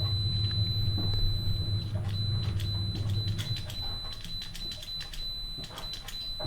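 A multimeter in continuity mode beeps while testing an intermittent fridge light switch, giving short, sharp electronic tones in irregular bursts over a low rumble and handling noise.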